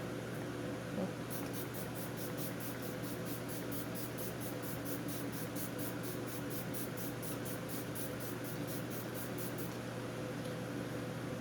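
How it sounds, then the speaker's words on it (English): A rapid series of many tiny, faint spritzes from a fine mist pump of Lancome Fix It Forget It setting spray onto a face, ticking evenly for several seconds over a steady background hum. "I'm actually gonna spray my face real quick."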